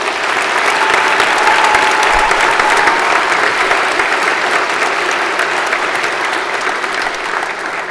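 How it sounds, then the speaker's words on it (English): A crowd at a high school senior awards ceremony applauds loudly and continuously, a dense, even roar of clapping that holds for the full eight seconds and fades slightly at the end. "Round of applause to our first group."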